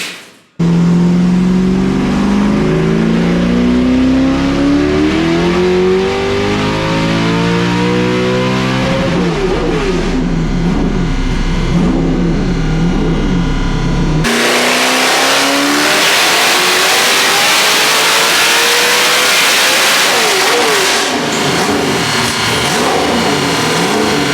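A nitrous-fed car engine on a dyno pull climbs loudly in pitch, stutters against the rev limiter, then drops and swells again into a second roaring rise, close and dominant with no talking.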